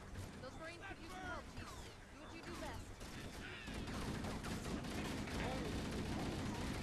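Pistol gunshots in the Halo shooter game, rapid cracks amid battle noise with other gunfire and effects, loud and busy, with a person talking over the shots.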